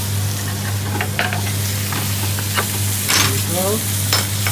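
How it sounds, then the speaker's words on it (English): Char-grilled chicken with peppers and onion sizzles on a cast iron plate, with a steady loud hiss and spitting crackles close to the microphone, and someone speaks briefly over it. "served on the cast iron, nice and sizzling"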